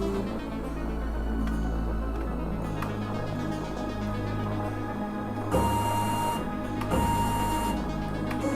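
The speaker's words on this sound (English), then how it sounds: "let's see if those motors work correctly or are set correctly" Stepper motors on a converted 7x12 CNC mini lathe whir and buzz steadily in the foreground, with a low motor hum underneath and two brief louder surges of jogging movement near the end.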